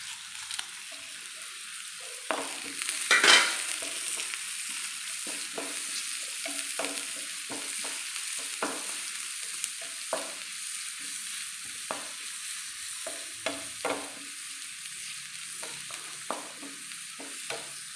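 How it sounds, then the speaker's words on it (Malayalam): Beef masala with slit green chillies fries in a pan, giving a soft steady sizzle broken by repeated scraping and clinking strokes as it is stirred, close and unaccompanied by talk. "നല്ലപോലെ ഒരു ഗോൾഡൻ കളറാക്കി നമുക്കൊന്ന് വറുത്തെടുക്കാം. ഇത് നല്ലപോലെ ഒന്ന് വഴറ്റിയെടുക്കാം."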